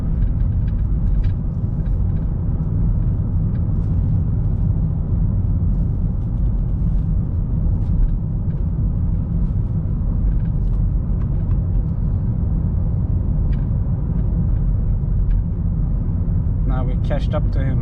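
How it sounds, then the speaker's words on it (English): A mountain bike rattles loudly on a car's bike rack while driving near Örebro, Sweden, its clatter mixed into a steady, heavy road and engine rumble with sharper knocks toward the end. "My bike is making a ruckus."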